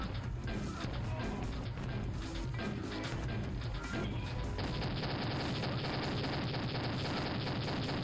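Rapid, sustained gunfire from an overpowered gun in a first-person video game, loud and continuous bursts over dense game sound with no pauses.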